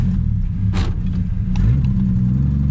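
A 1948 Studebaker engine, long abandoned, runs with a steady low rumble close by, with brief brighter bursts over the idle and no talk.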